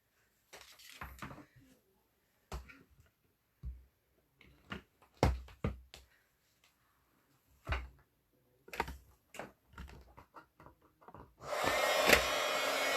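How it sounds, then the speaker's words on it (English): Scattered knocks and clatter of handling on a craft table come first. Then a heat tool for melting embossing powder switches on near the end with a loud, steady blowing roar. "let me plug in the heat tool"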